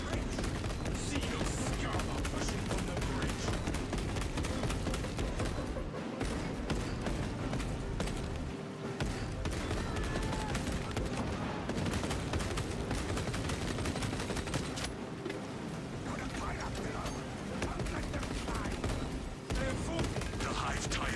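Relentless gunfire in Warhammer 40,000: Space Marine 2, a continuous roar of rapid automatic fire and blasts lasting the full stretch with only brief dips, loud and close, with game voices buried beneath.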